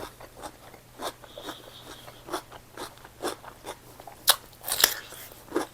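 Crisp, sweet blanched vegetable, eaten with nam prik kapi, is bitten and chewed up close in irregular crunchy snaps that grow sharper and louder toward the end, with no speech.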